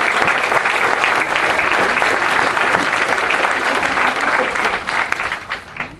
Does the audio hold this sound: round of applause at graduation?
yes